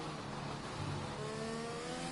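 Race car in a racing video game braking hard into a corner, its engine note sliding down steadily under a dense, loud wash of motor noise.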